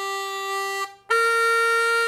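Harmonica played in second position on a blues scale: a clear sustained reedy note, a brief break, then another held note at a slightly different pitch, played alone.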